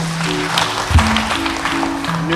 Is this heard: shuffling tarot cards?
no